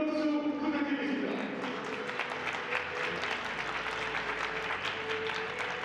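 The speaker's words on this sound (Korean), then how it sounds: "다시 한번 큰 박수 부탁드리겠습니다." A crowd applauds during fighter introductions at a Korean bantamweight boxing title match, a steady wash of clapping in a reverberant hall, with a tonal hum beneath the opening moments.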